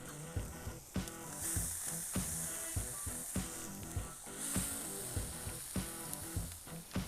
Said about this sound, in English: Just trying to get a good sear on the bottom side of that steak.